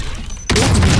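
A ground-placed bomb goes off in the battle-royale shooter Call of Duty Warzone: after a quiet half-second, a sudden loud, close blast hits and rolls on as a dense, rumbling roar to the end.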